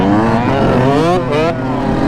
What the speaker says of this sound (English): All the dirt bikes coming in